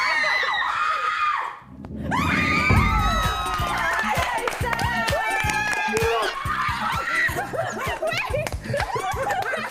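A crowd of people screams and shrieks excitedly on a television reality show, loud overlapping yelling and cheering that builds after a brief lull and carries on throughout.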